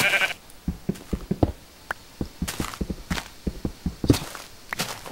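Sheep bleat repeatedly in the block-built game Minecraft, several short nasal calls spread across the stretch amid soft footstep-like thuds, fairly close and moderately loud with no talking.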